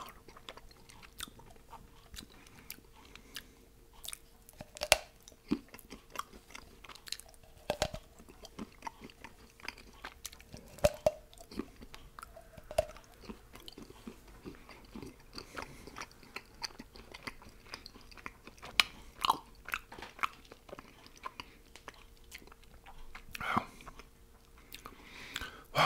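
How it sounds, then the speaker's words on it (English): Close, crisp chewing on a hollow chocolate Easter egg, with irregular crunches and bites scattered over a quiet background and no talking. "I'm not used to eating this much chocolate."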